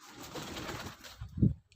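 A pigeon cooing close overhead with a brief low coo burst near the end, over a soft wash of background noise, with no talk.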